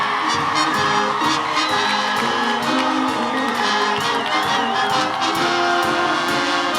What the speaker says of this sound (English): join me in a roll hats cheer while throwing our caps